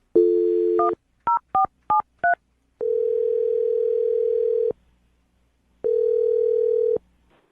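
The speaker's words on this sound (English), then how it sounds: "I'm going to dial his phone number right now." A long steady dial tone, then five quick two-pitch keypad beeps, followed by two long ringback tones separated by a pause.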